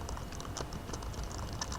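Rapid clicking of keys on a computer keyboard, typing in quick irregular bursts at close range with steady room noise behind and no voices.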